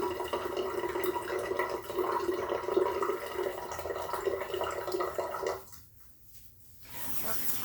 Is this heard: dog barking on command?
no